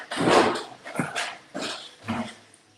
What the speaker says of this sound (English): I got dogs over here wanting something